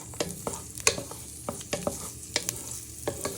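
Chorizo fries in a pan, a soft sizzle punctuated by repeated sharp scraping and tapping clicks from stirring, close and fairly quiet with no talking.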